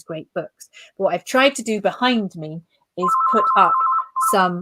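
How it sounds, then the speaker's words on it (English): A mobile phone rings during an indoor book festival talk, giving a repeated electronic trill under and between a man's continuous speech. "It'll stop ringing in a moment."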